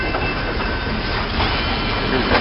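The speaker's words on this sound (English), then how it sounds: "train's still here" A freight train rolls through the 26th and Pacific rail crossing, a steady, loud rumble and rattle of wagons with faint clickety-clack that stays constant throughout.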